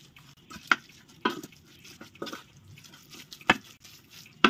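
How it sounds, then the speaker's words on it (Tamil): Oil is stirred into mango pickle with a spoon: a few sharp scraping and clicking strokes stand out from a quiet, faintly wet background, spaced irregularly and close by. "இது நம்ம இது எண்ணெய் சேர்த்துடலாம். அதுக்குள்ளே சேர்த்துட்டு நல்லா கலரி விட்டுடலாம்."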